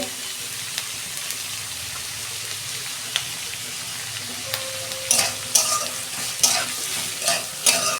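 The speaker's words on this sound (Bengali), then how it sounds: "পেঁয়াজটা ভাজা হোক, আমি পেঁয়াজে অল্প নুন দেবো" Onions frying in hot oil give a low steady sizzle, joined later by several louder scraping stirs of a spoon in the pan, close up, with faint background talk.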